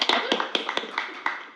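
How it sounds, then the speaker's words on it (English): Sparse hand claps at a Board of Education meeting, a few individual claps in an uneven rhythm from a small audience, close and moderately quiet, fading out. "give them a round of applause."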